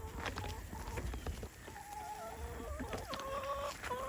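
Several backyard chickens cluck and murmur close by, with overlapping calls and a few rising squawks over a faint background hum.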